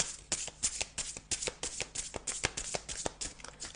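Zen tarot cards are shuffled and laid out by hand, giving quick papery riffles and soft slaps in an uneven rhythm, close and fairly quiet with no talking.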